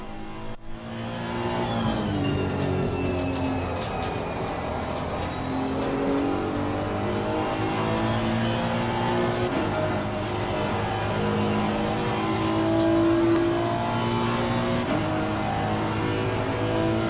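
A GT race car in the Assetto Corsa Competizione video game, driven around the Zandvoort circuit, screams steadily at high revs with rising and falling engine pitch through gear changes, loud and close with no talk.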